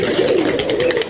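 Domestic pigeons coo steadily in a low, throaty murmur as they fly back into their loft after the cage is opened; the cooing is close, continuous and overlapping, with no talking.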